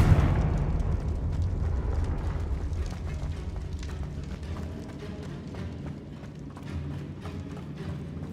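The Confringo spell bursts in Hogwarts Legacy as a loud, close blast with a deep rumble that fades gradually over several seconds, followed by faint scattered crackles.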